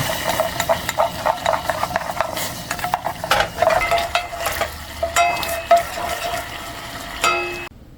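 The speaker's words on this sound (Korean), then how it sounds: "물을 붓고 나서 덩어리가 안 생기도록 잘 풀어주면서 조금만 바글바글 끓여요" Caramel sauce simmering after about a paper cup of water is poured in, stirred to keep lumps from forming; a steady close sizzle and bubbling with scraping stir strokes, no voices.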